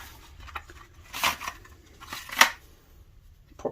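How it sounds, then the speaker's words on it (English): Scissors snip hair tangled around the brush bar of a Dyson DC24 vacuum, giving a few short crisp cuts at close range with quiet handling between them. "Cut all your hair off the brush bar."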